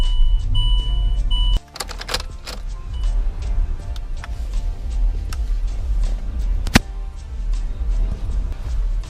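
A Range Rover's air suspension shifts ride height with a steady low mechanical hum, then ticks, clicks and a sharp knock as the compressor and valves work, heard close in a quiet space.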